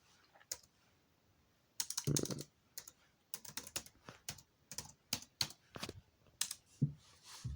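Someone types on a computer keyboard while entering a password, the quick clicky keystrokes coming in irregular bursts with short pauses between, close and fairly quiet, with no talk.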